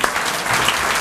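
Dense, warm applause from a standing church congregation welcoming a speaker at a Baptist fellowship evening service, a brief, steady burst of many hands clapping.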